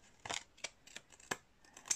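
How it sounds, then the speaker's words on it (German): Large scissors snipping through paper card during card crafting, several crisp separate cuts spaced unevenly, close and clear with no voice. "Dann nehme ich mir eine große Schere, drehe mir das um und schneide mir dann von hinten einfach"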